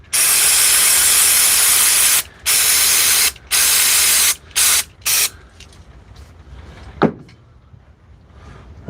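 Cleaning spray hisses onto a Dewalt nailer under repair in several loud, steady bursts of a couple of seconds each, separated by short gaps, with a few shorter blasts before a brief clack and then quiet.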